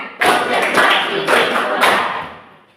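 A classroom of students claps together in rhythm, three loud grouped bursts of many hands about half a second apart, close and fading out at the end.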